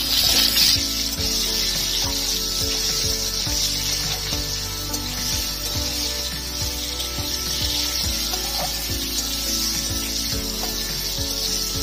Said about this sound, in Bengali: দিয়ে দিচ্ছি নুন, হলুদ গুঁড়ো, ভেজে নেব আলুটা।